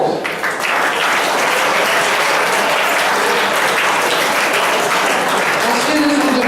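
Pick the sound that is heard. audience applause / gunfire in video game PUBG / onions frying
audience applause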